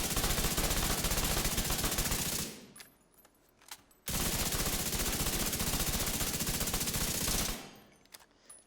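Automatic weapon fire in The Division 2 training area, two long sustained bursts of rapid shots separated by a short pause with a few stray clicks.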